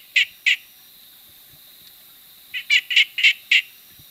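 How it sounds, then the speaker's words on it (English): Green stream frog calls in a field recording: two sharp chirps, a pause, then a quick run of five similar chirps, loud and clear against near silence. "and this is the green stream frog."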